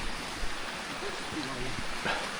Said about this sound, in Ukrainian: Тут також дивіться, струмочок біжить.